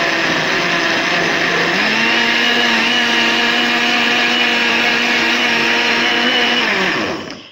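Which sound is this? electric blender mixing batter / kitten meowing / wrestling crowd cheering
electric blender mixing batter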